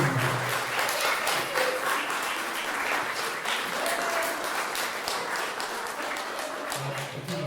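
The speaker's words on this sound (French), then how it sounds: "On peut applaudir, merci." An audience claps steadily and evenly at an artistic workshop performance, a dense wash of many hands that carries on without pause for several seconds.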